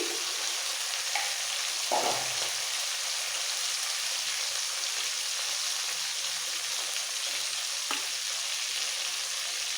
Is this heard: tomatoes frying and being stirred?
yes